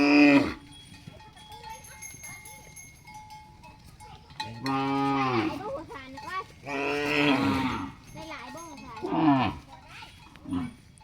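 Water buffalo lowing on a rural farm in Laos, several long drawn-out moos in a row, loud and close, with a cowbell clanking between calls.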